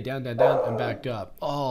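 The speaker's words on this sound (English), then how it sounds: "that's my dog." A cockapoo dog barks and yips a few times close by, mixed in with someone talking over it.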